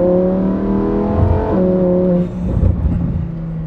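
A Lamborghini Huracan Performante pulls hard under acceleration, its engine note loud and close with steady harmonic tones that dip briefly and resume, filling the short stretch without speech.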